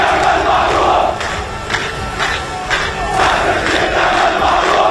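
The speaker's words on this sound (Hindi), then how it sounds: "लोगों ने अस्पताल पर हुए हवाई हमले की निंदा की और इजराइल के विरोध में जमकर नारेबाजी की।" An angry crowd of protesters in the streets of Ramallah, condemning an air strike on a hospital, chants slogans loudly and continuously, with many voices rising and falling together in a rough rhythmic pattern.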